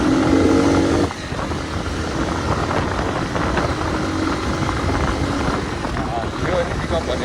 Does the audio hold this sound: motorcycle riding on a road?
yes